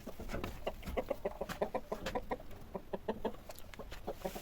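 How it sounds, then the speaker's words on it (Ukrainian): A broody hen clucks in a rhythmic series of low, throaty clucks, close and steady, with no talking over it. "Боже, квочка. І квокче."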